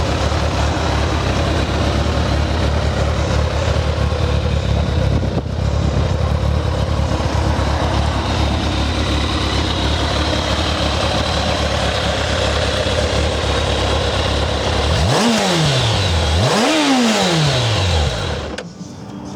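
A Kawasaki Ninja ZZR1200 motorcycle idles steadily and close for a long stretch, then is revved twice in quick succession, each rev climbing and falling sharply before the engine cuts out.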